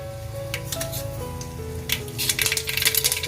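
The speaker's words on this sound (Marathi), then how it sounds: "पॅन मध्ये तेल घालून आपण गरम करायला ठेवला होता तर याच्यामध्ये आपण सर्वात पहिलं आधी मी राई घालते" Mustard seeds drop into hot oil in a pan, giving a steady sizzle with sharper crackling bursts building toward the end, close and fairly loud, with faint clinks of a utensil and no talking.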